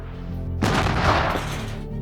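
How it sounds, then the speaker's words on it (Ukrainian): A single loud artillery shot booms out on a Ukrainian front line, followed by a rumbling blast that fades over about a second. "Пуск. Постріл!"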